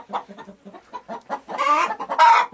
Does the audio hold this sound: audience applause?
no